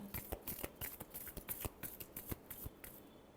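Tarot cards being shuffled by hand, a quick run of crisp riffling flicks and slaps in an uneven rhythm, close and fairly quiet with no voices.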